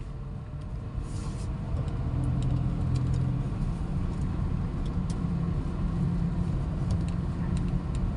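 A seven-year-old Perodua Axia E small car hums along while driving, its engine and road rumble a steady low drone from inside the cabin, rising slightly after the first couple of seconds.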